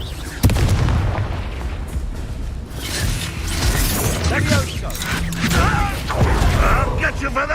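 A Confringo blasting-curse explosion in a Harry Potter mobile game, a sharp bang opening onto rumbling, mechanical battle noise that continues throughout, with voices speaking over the clamour.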